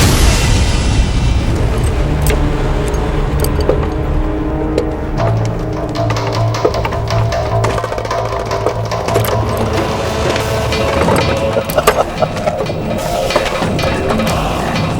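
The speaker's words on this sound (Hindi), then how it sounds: "हुजूर हमारी तोपें आ रही हैं।" Booming cannon fire in a historical drama battle scene between Maharana Pratap's forces and the Mughals, loud dense rumbles and blasts layered with clattering impacts throughout.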